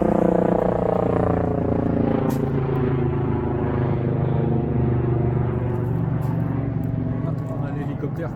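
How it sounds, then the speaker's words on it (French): A helicopter flies overhead toward the hospital in Auxerre, a steady low rotor and engine drone holding for the whole stretch at a constant loudness, over street ambience. "On a l'hélicoptère qui va à l'hôpital."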